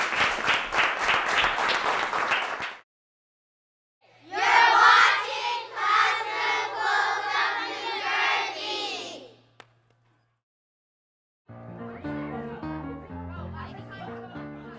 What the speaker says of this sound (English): let's give them a big round of applause for what they're doing